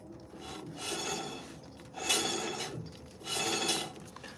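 A new trailer wheel drum on a sealcoat trailer spins on its freshly tightened bearing, giving three rasping, rubbing whirs that swell and fade in turn, close up with no talk.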